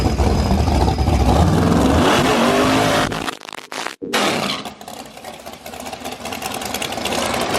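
A loud LS-swapped Buick Grand National engine revs hard up and down close by, dropping out briefly midway before the throttle comes back in rough, repeated surges.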